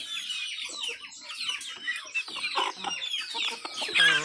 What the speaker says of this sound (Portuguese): Aqui é outro frango macho